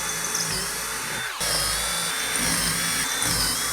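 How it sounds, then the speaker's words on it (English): A power drill with a 7/32 bit bores into a wall, whining loudly and continuously up close, with a brief dip in speed partway through. "now I'm going to use a 7/32 drill, and I want that to go the length of the screw"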